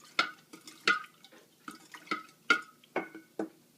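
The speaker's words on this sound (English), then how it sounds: "this is me stirring" A spoon stirring a sugar tea solution for kombucha: close, rhythmic clinks and swishes, about eight strokes spaced roughly half a second apart, fairly quiet, with no talking.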